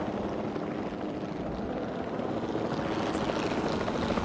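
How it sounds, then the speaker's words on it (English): Helicopter in the Jurassic World Evolution 2 video game, a steady whirring rotor drone with engine hum holding at a constant moderate level, heard alone without talk. "We have a helicopter standing by, and they'll attempt to tranquilize the animal from the air."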